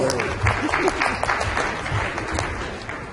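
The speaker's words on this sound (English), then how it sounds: "Allison? Oh, give her a good round of applause" A crowd applauds steadily at a family planning conference in Nigeria, a dense wash of many hands clapping at moderate volume throughout, with a faint murmur of voices underneath.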